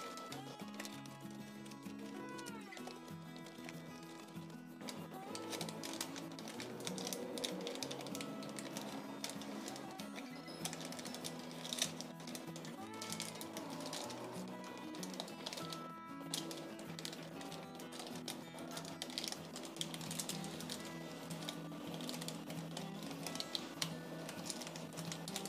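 Paper folded inward and pressed down by hand to shape a cupcake liner, producing close, crinkly rustles and taps that continue irregularly throughout.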